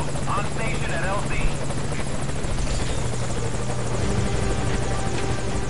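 Helicopter arriving at a landing zone in Metal Gear Solid V: loud, close, continuous rotor chop and engine whine fill the whole stretch, with a voice briefly heard underneath.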